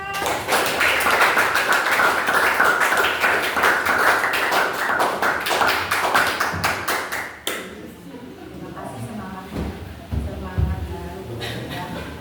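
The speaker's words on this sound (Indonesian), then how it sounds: "Yuk tepuk tangan untuk kita semua." Children in a school class clap their hands together, dense and lively for about seven seconds before the clapping stops abruptly, leaving a quieter room with scattered noises.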